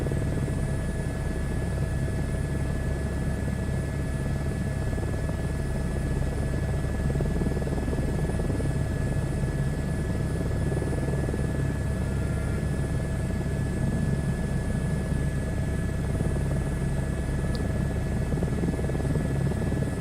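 Simulated H125 helicopter in a flight simulator game, a steady continuous rotor and turbine drone with a constant high whine, loud and unbroken throughout with no voices.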